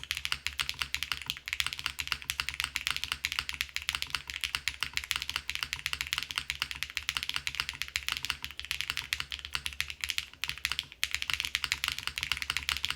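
Continuous rapid clacking of Wuque Paper80 mechanical keyboard keys, close and crisp, with a few heavier thocks mixed in and no talking.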